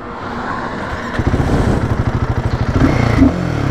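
Royal Enfield Himalayan 452 motorcycle exhaust heard up close, a low idle that breaks into rapid pulsing as the engine revs hard and climbs, loud and rough, with a brief higher whine near the peak.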